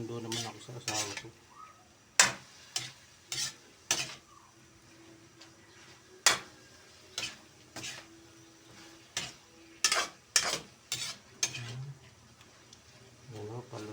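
Liver (atay) cooking in a pan, with a spoon stirring and scraping against the metal in sharp irregular clacks over a faint low sizzle, close by, while a person speaks in between.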